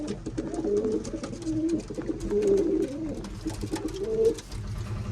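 Pigeons shut inside a loft coo softly and repeatedly, their low burbling calls rising and falling over a steady background hum.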